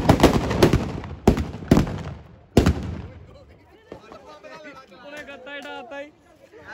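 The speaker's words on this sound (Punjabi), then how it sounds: "ਆਪਾਂ ਪਟਾਕੇ ਪਟੂਕੇ ਫੋੜ ਕੇ ਆ ਗਏ ਹਾਂ" Diwali firecrackers go off in a few sharp, loud bangs in quick succession, followed by quieter crackling and people chattering and talking.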